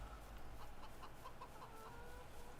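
Chickens clucking in Farming Simulator 22, a rapid run of short, repeated notes over a steady low hum, moderately close and fairly quiet.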